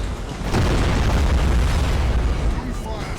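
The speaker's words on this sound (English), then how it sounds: "Void cannons taking out the shields of the ship in the background. Next wave of missiles is out." Missiles and void cannons firing in the space-battle game Battlefleet Gothic Armada 2, a loud deep boom swelling into a sustained rumbling roar of blasts.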